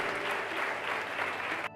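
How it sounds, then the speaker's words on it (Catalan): Dense, steady applause from an audience gathered for an inaugural lecture and entrepreneurship meeting, lasting nearly two seconds before cutting off abruptly. "Tornem a aplaudir, que ens tornem a veure les cares."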